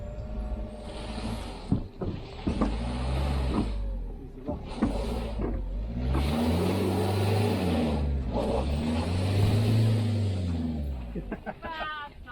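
A front-wheel-drive van stuck on snowy grass revs hard in long sustained surges, engine pitch rising and falling repeatedly, with people talking and shouting nearby over the noise.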